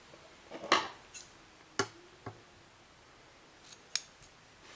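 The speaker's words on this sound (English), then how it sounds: "I'll chain 1, then I'll cut this yarn." Scissors snipping crochet yarn, heard as a few sharp, quiet metallic clicks and snips spaced irregularly over a hushed, near-silent background.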